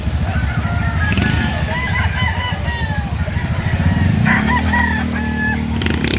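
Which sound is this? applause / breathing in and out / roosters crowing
roosters crowing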